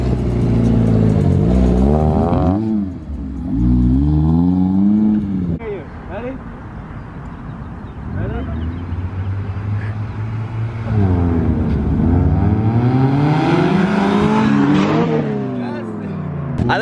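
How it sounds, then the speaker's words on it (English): Two Mazda Miatas, a 1995 and a 2016, drag racing toward a waiting spectator: loud engines rev and climb through gears, pitch sweeping up and dropping with shifts, passing close, with voices in between. "We're gonna do a drag race."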